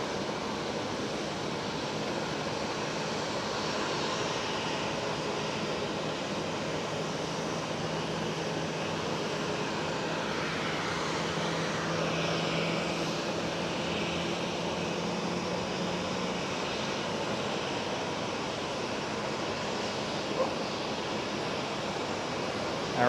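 An airliner departing runway 24, the Kaagbaan, at Schiphol Amsterdam: a steady, broad distant jet roar that holds at an even level throughout, with no talk.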